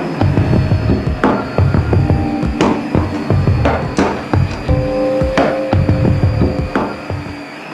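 Tineco Pure One S12 stick vacuum running in auto mode on carpet, a loud steady motor hum with repeated knocks and clicks as it sweeps back and forth.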